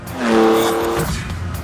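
Lamborghini Countach with a 48-valve 5.2-litre V12 engine, a brief, loud, close roar of the engine as the car drives past.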